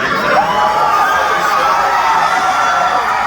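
Concert crowd at a show cheering and shouting continuously, loud and dense throughout with high whoops and mixed voices.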